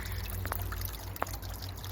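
Water trickles steadily from a small pond water feature driven by a 20-watt pump, a soft continuous splash with occasional brighter droplets, close and alone.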